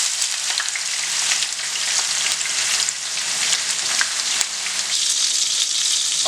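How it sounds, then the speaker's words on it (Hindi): Onions frying in a pan until golden brown for chicken rara kebab, a loud steady sizzle and crackle that stays close and continuous throughout, with no voices. "आप देख रहे हैं कि हमारे ये जो प्याज हैं इन्हें हमें गोल्डन ब्राउन करना है।"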